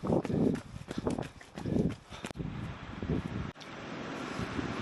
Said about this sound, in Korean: 바람 진짜 많이 분다